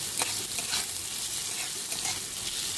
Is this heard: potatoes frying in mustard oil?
yes